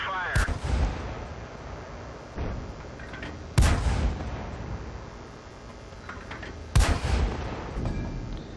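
Tank main gun firing in World of Tanks as a Matilda IV: three loud, booming blasts spaced a few seconds apart, each trailing into a rumbling decay over steady engine and battle noise.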